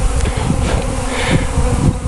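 Honeybees swarm densely around a large backyard hive that is nearing swarming, a loud, close, continuous buzz of many insects with faint flickers of individual wingbeats and no talk.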